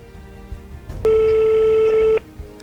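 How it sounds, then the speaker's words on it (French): Ringback tone of an outgoing telephone call, a single steady purring ring lasting about a second, loud and close, with quiet background around it. "Alors ça sonne."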